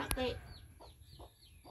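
A hen clucks nearby in a short series of soft, evenly spaced clucks, with a brief voice and handling noise at the start.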